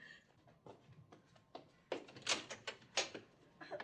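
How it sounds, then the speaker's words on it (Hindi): A door is opened in a home in a Hindi family comedy series, heard as a series of close knocks, thuds and latch clicks, fairly quiet, with no talking. "मैं दरवाजा खोल कर आती हूँ"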